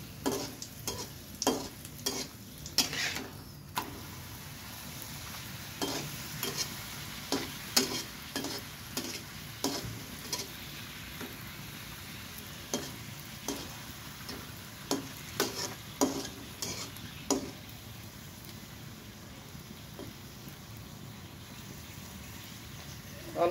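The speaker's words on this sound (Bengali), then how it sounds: "অল্প তেল দিয়ে কিভাবে এই লুচিটা ভাজতে হয় দেখে নিলেন" Luchi puffed flatbread frying in a little oil, being pressed down in the pan, with a soft continuous sizzle and frequent scraping and tapping of a spatula, close by but fairly quiet.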